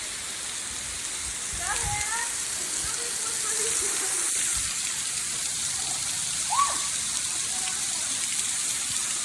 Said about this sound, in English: Our second waterfall for today. And we get to go underneath it.